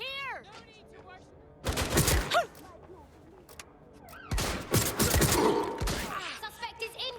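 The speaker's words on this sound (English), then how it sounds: "I'm getting shot at here." Gunfire in Watch Dogs Legion comes as two loud bursts of shots with booming impacts, separated by quieter stretches where a voice and electronic game tones can be heard.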